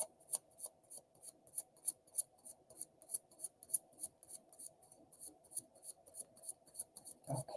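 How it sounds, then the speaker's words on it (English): A Wizard's Tarot card deck shuffled in steady repeated riffles, each a crisp papery burst, about two per second, close and fairly quiet with no voices over it. "It's a nice deck to shuffle. It really shuffles well."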